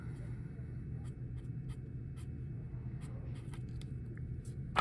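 Chalk or marker strokes on a classroom board during a geometry trigonometry lesson, a series of short scratchy taps and scrapes over a steady low room rumble, fairly close, with no talk.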